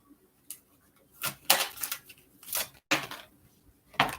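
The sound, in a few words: shuffling Angels of Abundance oracle cards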